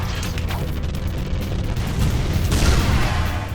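Blitz cannon firing in Ratchet & Clank 2: Going Commando, a continuous barrage of heavy booming shots blending into a dense, loud rumble with no pauses.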